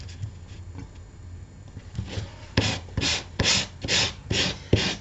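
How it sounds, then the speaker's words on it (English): Hand sanding of a wooden piece, with rhythmic back-and-forth rasping strokes that start soft and grow into about six loud, evenly spaced scrubs, close up and alone. "I'm going to stop the sanding there,"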